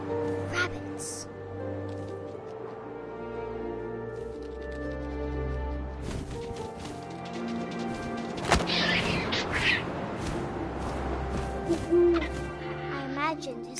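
An owl hoots in the video game What Remains of Edith Finch, a soft call rising over wind and game ambience while a narrator speaks throughout.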